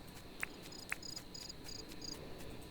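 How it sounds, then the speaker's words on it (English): Cricket chirping in the video game Dinkum, a steady run of short, high, evenly spaced chirps with two brief sharper clicks, faint and alone against quiet ambience. "I hear a cricket."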